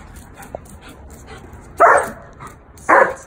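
A guard dog in bite training lets out two sharp, loud barks close by, spaced about a second apart after a quiet stretch with a faint whimper.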